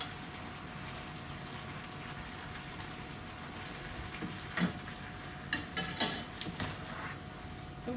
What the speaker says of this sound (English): And keep stirring.